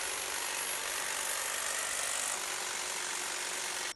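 Power hedge trimmer cutting through a garden hedge, a steady, continuous high-pitched motor buzz that holds evenly for about four seconds and stops abruptly, close and loud with no voices.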